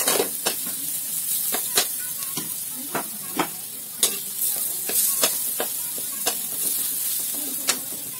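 Onion fries in hot oil with garlic for pork adobo, a constant close sizzle broken by regular scraping clicks of a utensil stirring the pan.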